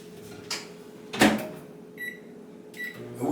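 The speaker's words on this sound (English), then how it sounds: "Then we throw this stuff in the microwave and we let it do its work." A microwave oven heating stir-fry noodles, a faint steady hum broken by a loud thump of the door closing and a few short electronic beeps as it is set.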